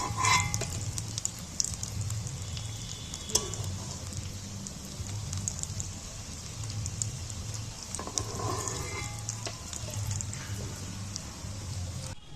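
Pieces of fish sizzle and crackle steadily in hot oil in a pan, a dense continuous frying hiss with occasional sharper pops and faint clinks, heard alone at moderate volume.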